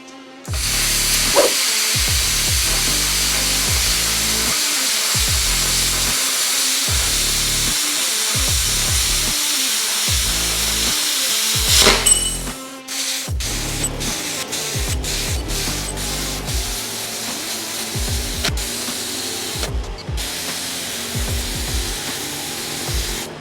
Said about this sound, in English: So we just did about 5 to 7 minutes of straight cutting with the small compressor